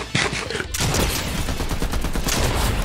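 A machine gun fires in Fortnite, a continuous rapid stream of loud shots that lasts nearly three seconds, with heavy low rumble and faint talk beneath.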